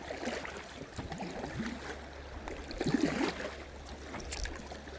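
Stream water flows and trickles around a kayak on a lake, a soft continuous wash with light splashes, close and steady throughout, with no talking.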